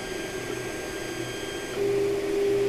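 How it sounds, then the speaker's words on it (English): A 3D printer running Marlin firmware homes its axes with a newly installed sensor, giving a steady mechanical hum and whine that steps louder near the end as the motors move, with no talk. "you are able to home here all the printer and of course get the sensor working"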